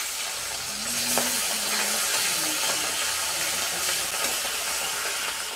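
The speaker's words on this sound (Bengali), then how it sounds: "এবার আমি মাছগুলোকে তেলের মধ্যে ছেড়ে দেব।" Tangra fish dropped into hot mustard oil in a heated kadai give a steady, broadband sizzle and hiss that carries evenly throughout, with no one talking.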